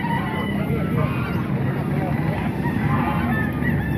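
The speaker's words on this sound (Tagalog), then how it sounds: "marami yung manok" Crowded chicken stalls at a Wednesday tiangge market in Baliwag, Bulacan, with continuous overlapping clucking and squawking, loud and close, mixed with background chatter from people.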